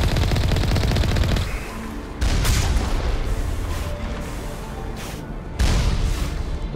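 Turret gunfire in the video game Mass Effect Legendary Edition: sustained rapid automatic fire, loud and dense, with heavy booming impacts and shifts in intensity throughout.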